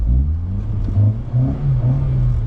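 A sports car engine accelerates, rumbling steadily with rising pitch, close and loud, driven on a road by a young child.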